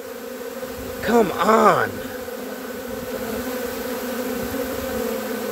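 A large swarm of bees hums in a steady close drone, with a few louder buzzing passes as individual bees fly right past; someone speaks briefly.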